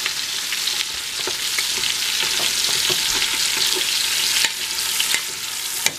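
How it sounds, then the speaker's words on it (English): Sausage meat browning in a pot for Zuppa Toscana, a loud continuous sizzle with scattered scraping clicks as a wooden spoon breaks it up and stirs it, close and uninterrupted by talk. "into the pot they go to brown it up. So it's good to use a wooden spoon so you can break up the sausage meat"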